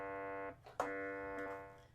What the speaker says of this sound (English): Could be a Simon buzzer.